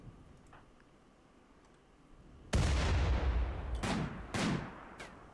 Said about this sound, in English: The mortar shot here.